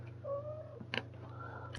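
A house cat meows twice up close, a drawn-out rising cry followed by a shorter one, with a faint click between them over a steady background hum.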